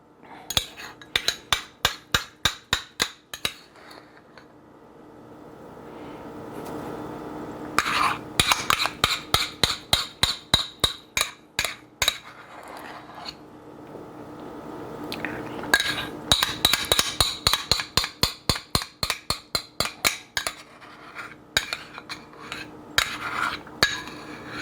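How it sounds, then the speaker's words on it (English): Keto pudding is spooned into pudding cups: long runs of sharp, rapid clinks and taps of a utensil against dishes, steady and close, broken by short pauses and quieter scraping between bursts, with no voices. "I'm going to transfer these into my pudding cups."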